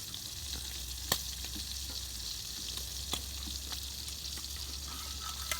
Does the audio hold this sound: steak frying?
yes